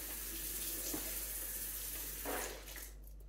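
Hot water runs steadily from a tap into a sink for rinsing whiting fish, close by, with a couple of splashy surges before the flow cuts off near the end.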